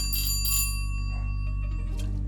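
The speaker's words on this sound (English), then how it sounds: "That was the doorbell." A doorbell chimes in a home workspace, a bright ringing tone with a steady hum underneath, sounding alone without talk.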